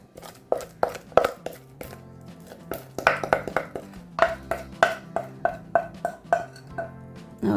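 A utensil working around a mixing bowl of funfetti loaf cake batter, giving a series of sharp knocks and scrapes against the bowl at an uneven, then steady rhythm, close and fairly clear, with no talking.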